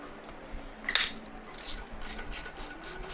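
Ratchet loosening cylinder head bolts on a BMW S1000RR motorcycle engine, a sharp metallic click followed by a run of quick close ratcheting clicks.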